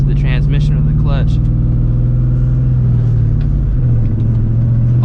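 A 1999–2004 New Edge Ford Mustang GT with a manual gearbox drones loudly from the cabin, its steady low engine rumble dipping in pitch near the end as it drives, with a voice talking briefly at the start.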